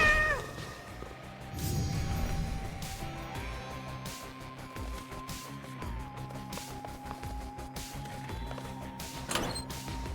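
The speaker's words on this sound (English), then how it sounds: "You're an impressive cat." A cat meows in the video game Hades II, its cries rising over a steady bed of game music and clattering effects, fairly close but partly blended into the busy soundtrack.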